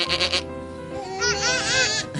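A child mimics a goat's bleat, giving a short call followed by a longer, quavering 'meh' that trembles in pitch, close and fairly loud.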